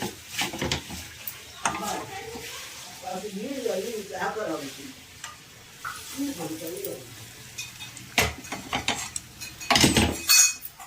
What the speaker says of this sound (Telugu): సో పచ్చట్లో తాలింపు వేసేద్దాము